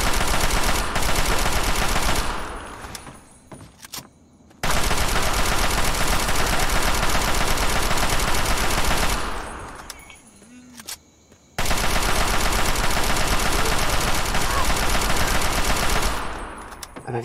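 Long sustained bursts of automatic weapon fire from Fallout 3, loud and dense, come in three extended volleys separated by brief pauses with lingering echoes.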